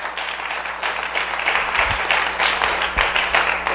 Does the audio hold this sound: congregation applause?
yes